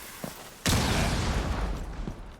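Gunfire in Borderlands: a sudden loud burst of rapid shots erupts after a faint pop, then rattles on as a dense, sustained volley.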